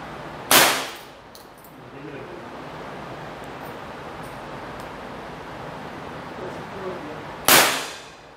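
Two sharp Webley air revolver pellet shots crack out at an outdoor range, one early and one near the end, each with a quick decaying tail over steady breezy background noise.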